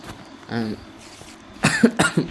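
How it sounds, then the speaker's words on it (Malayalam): A short vocal sound, then two or three sharp, close coughs in quick succession. "ചുമ"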